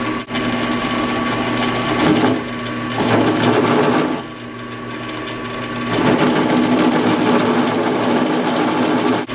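WEN 4225 15-inch drill press drilling 1-inch steel with a high-speed steel bit and cutting oil, a loud steady motor hum with chattering cutting bursts that rise, pause and return.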